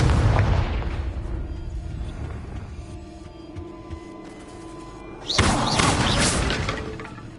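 Hogwarts Legacy on PS5: the Confringo fire spell bursts with a heavy boom at the start. After a quieter stretch, a second loud explosive blast follows and rumbles away.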